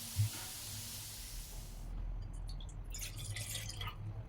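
Garlic and ginger frying in a pan, a steady hiss of sizzling oil with small crackles and pops, close and alone.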